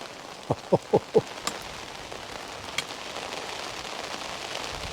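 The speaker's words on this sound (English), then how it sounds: "It ain't stopped raining for the last 2 hours." Rain falls at an outdoor fishing lake as a soft, faint patter, with a few distinct drops tapping close by early on before settling into a quiet, even hiss.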